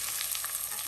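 Washed flat bean seeds drop into onions frying in a pan for a tomato and catfish curry, giving a steady, close, bright sizzle with no voices.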